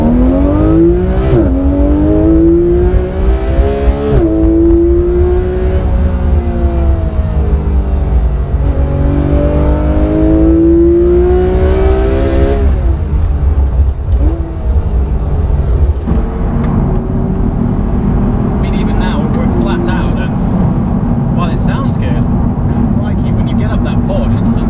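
A car engine revs hard and climbs in pitch, with someone talking over it throughout; the engine note later settles into a steady drone.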